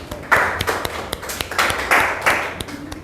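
Scattered clapping from the audience at a property customer gathering, a few uneven bursts of hand claps with distinct sharp taps between them, fairly close and moderate in level.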